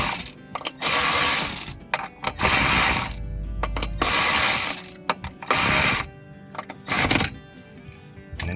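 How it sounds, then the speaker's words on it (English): Ratchet tightening clutch bolts on a Polaris RZR Pro XP Turbo during a clutch kit install: loud bursts of rapid ratcheting clicks in several runs with brief pauses between, close up and with no talk. "When you tighten these up, tighten 2 opposite ones, just a small amount at a time"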